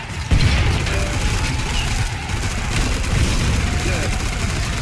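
Poison explosions go off in the Killing Floor 2 shooter game during Demolitionist play, a loud continuous barrage of booms mixed with rapid gunfire and mechanical clatter.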